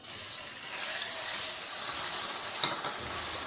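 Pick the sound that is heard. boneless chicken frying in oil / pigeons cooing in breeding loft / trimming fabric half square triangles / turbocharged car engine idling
boneless chicken frying in oil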